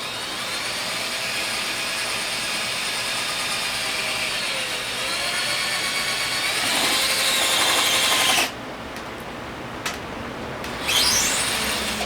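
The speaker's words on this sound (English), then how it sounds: "So I'm going to go through and make little itty bitty holes" A handheld power drill bores small holes around an epoxy table mold, a continuous whining buzz that rises in pitch, then cuts off with short bursts and a final spin-up, close and loud with no talk.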